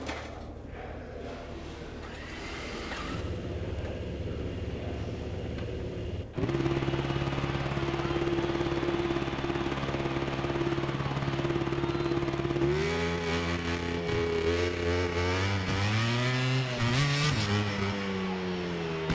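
An Aprilia racing motorcycle engine in the game MotoGP 25 drones steadily, then revs higher with a sharp jump in pitch and rises and falls through gear changes, loud and continuous with no talk.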